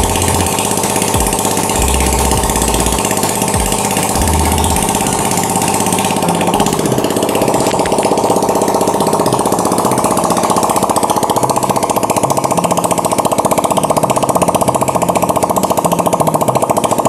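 A Honda Beat scooter engine runs steadily after a repair for smoke and oil leaking into the air filter, a loud continuous close-up drone whose pitch shifts partway through as it is adjusted.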